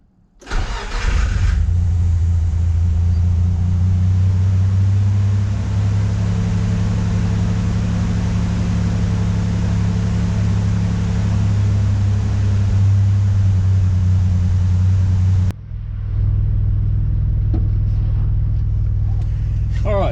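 A Nissan Navara's VG30 engine cranks briefly, catches and settles into a loud, steady idle, close to the microphone, with a short break in the noise near the end.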